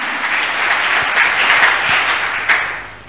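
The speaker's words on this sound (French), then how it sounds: "Est-ce qu'on peut acclamer pour la parole du Seigneur?" Church congregation applauding during a French-language sermon, a steady, full wash of clapping from many hands that holds for about three seconds and thins slightly at the end.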